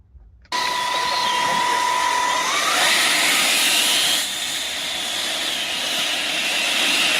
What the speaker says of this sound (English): we got Gunther flying the Karf Eurofighter, and this thing is just spectacular